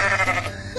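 A goat in the Goat Simulator video game gives a short, loud bleat, alone and close.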